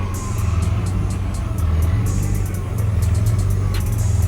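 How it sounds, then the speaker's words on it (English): A car engine hums steadily at a low, even pitch, close by at a K1 Speed car event, with faint rhythmic ticking on top; no talking. "do you hear this car humming?"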